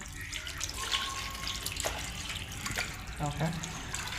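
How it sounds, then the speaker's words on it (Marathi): Running tap water splashes steadily over raw chicken being rinsed, with faint clatter and a soft voice in the background. "धुवून घेऊया आपण चिकन"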